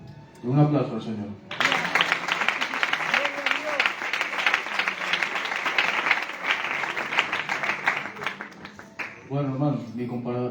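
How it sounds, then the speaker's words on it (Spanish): A church congregation breaks into loud, sustained applause, rising abruptly after a few spoken words and continuing for several seconds before speech resumes at the end. "Un aplauso al Señor."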